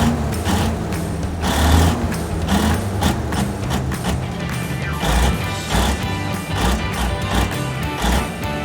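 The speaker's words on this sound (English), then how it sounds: "Hammers large steel or concrete piles into the ground to support buildings and bridges." A pile driver hammers large steel or concrete piles into the ground with a rapid series of heavy, loud impacts, clanking over a steady rumbling engine.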